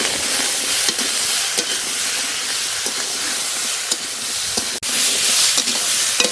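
Spices with salt and turmeric sauté in a pan under a loud, dense hiss of frying, with occasional stirring scrapes and knocks spaced through the sizzle.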